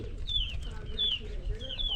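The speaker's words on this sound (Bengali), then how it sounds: "দেশি মুরগি" Chickens cluck softly and repeatedly, short rising calls recurring in a steady pattern over a low background rumble.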